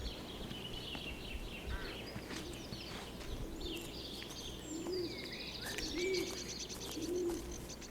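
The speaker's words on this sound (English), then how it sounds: "Birds." Doves cooing in the video game Everybody's Gone To The Rapture, soft repeated low coos over a steady outdoor ambience with higher birds chirping and tweeting in the background.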